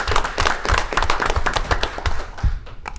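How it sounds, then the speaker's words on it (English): Audience applause at a city Mayor and Board of Aldermen meeting in Southaven, Mississippi: a dense, steady round of hand clapping from the room, moderately loud and continuous throughout. "let's give them a round of applause"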